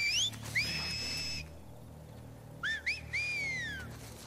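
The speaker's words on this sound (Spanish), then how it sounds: "Se comunican a través de silbidos," Scars signalling to one another with human whistles in The Last of Us Part II: clear rising and falling whistled calls, a long note then a pause before a quick exchange of short chirps and a sliding tone, moderately loud over low ambience.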